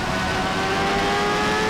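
A Michael Schumacher race car from the rFactor 2 racing game roars loudly at high revs, holding a strong, steady whining engine note that climbs slightly throughout, with no speech.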